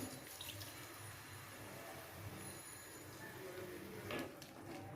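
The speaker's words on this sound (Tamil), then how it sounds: "இப்போ இது வேகிறதுக்கு ஒரு 1/2 டம்ளர் தண்ணி ஊற்றுறேன்." About half a tumbler of water pours steadily into a pan of cooking brinjal in a soft, continuous trickle, with a slightly stronger splash near the end; quiet overall.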